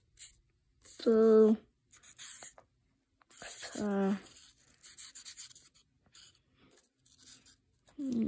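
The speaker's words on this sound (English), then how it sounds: "Let me put something on it. Let me just write it." Scratchy pen strokes come in short runs as a word is written out by hand, close by, broken up by voices talking.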